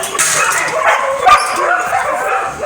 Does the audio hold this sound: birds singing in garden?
no